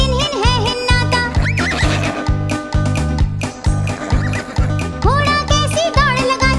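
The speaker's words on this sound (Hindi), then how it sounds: "घोड़ा कैसी दौड़ लगाता, हिन हिन हिन हिन है हिन नाता।" A horse neighs a few times over the bouncy music of a Hindi children's nursery rhyme, the whinnies standing out clearly above the steady beat.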